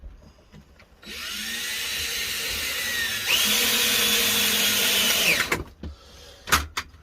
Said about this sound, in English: I need to drill this middle one out now. So I have a metal drill here.